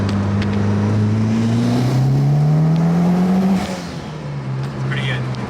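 A Mitsubishi Evo 9 fitted with a Turbosmart blow-off valve pulls hard through a tunnel, its engine note climbing loud and close before the throttle lifts and the tone drops, echoing off the tunnel walls.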